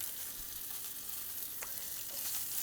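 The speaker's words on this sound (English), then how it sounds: "This grill pan is hot, hot, hot. Let's go ahead and get our broccolini on top." Broccolini sizzling on a very hot grill pan, a steady close hiss of frying with a few faint pops and no talking.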